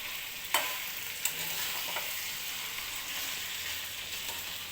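Green peas ghugni frying and being stirred in a pan, a quiet steady sizzle with a few sharp spoon scrapes near the start, no talk.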